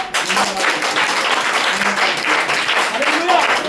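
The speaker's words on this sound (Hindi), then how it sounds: "जोर से अपनी ताली बजाएंगे।" A church congregation claps loudly and steadily during worship, a dense wash of many hands, while voices call out over the applause.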